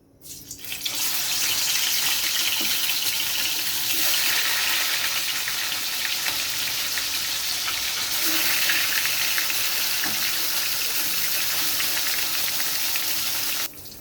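Catla fish pieces rubbed with salt and turmeric hit hot oil in a pan, setting off a loud, steady, close-up hiss that holds for over twelve seconds and cuts off sharply near the end, with no talking.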